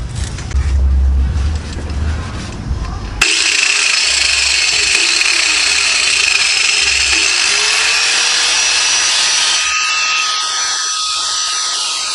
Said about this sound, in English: So I'm just gonna get a grinder, cut all these extra frays off